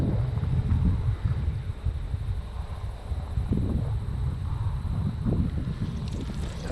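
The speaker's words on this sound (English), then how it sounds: "A little windier than I thought it was gonna be." Wind buffeting a microphone out on a bass fishing boat, a steady low rumbling roar with gusty swells and no talk.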